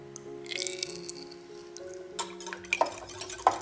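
Eggs, vegetable oil and milk being stirred together in a bowl for dorayaki batter, with soft wet sloshing, clinks of utensil against the bowl and a few sharper taps near the end.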